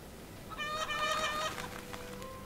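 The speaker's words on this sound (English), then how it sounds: "these chickens are going crazy" Chickens clucking in The Witch of Fern Island video game, a short burst of agitated, tonal bird calls rising over quiet background for about a second before fading.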